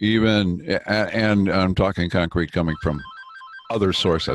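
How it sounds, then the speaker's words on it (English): A telephone rings repeatedly in the background during a Board of Selectmen meeting, its bell tones breaking through a man's steady speech and sounding alone in a brief pause. "So sorry about the phone."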